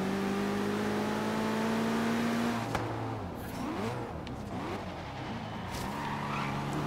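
A race car in Forza Horizon 3 roars and shifts gears, its engine note climbing and dropping close by while tires squeal and skid through corners.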